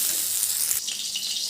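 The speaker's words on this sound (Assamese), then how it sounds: "এনেকৈ অলপমান ফ্ৰাই কৰি এইখিনি নমাই থৈ দিম" Onions frying in a pan: a steady, close sizzle with a bright, hissing crackle running the whole time and no voices.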